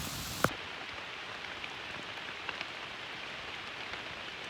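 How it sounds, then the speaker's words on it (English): Heavy rain pours steadily onto a forest hiking trail along Michigan's Manistee River, a dense unbroken hiss with a sharp knock near the start and faint drips now and then. "It is pouring out, has not let up even a little bit"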